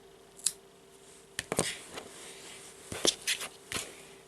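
Scissors snip through thread while making a Christmas friendship bracelet, giving several short, crisp cuts in separate bursts at close range over a quiet background.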